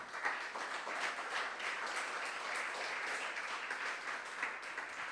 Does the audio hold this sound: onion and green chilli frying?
no